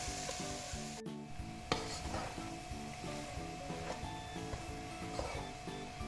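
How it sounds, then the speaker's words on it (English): Rice being stirred into a tomato mixture in a pan, with a steady sizzle and repeated scraping strokes of the spoon, plus one sharp knock against the pan near the start. "And now to this we add our rice. And we mix everything really well."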